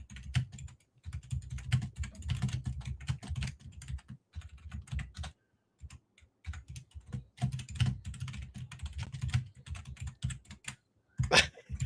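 Loud, fast typing on a PC computer keyboard, dense bursts of clacking keystrokes with a few brief pauses, close and alone without talk.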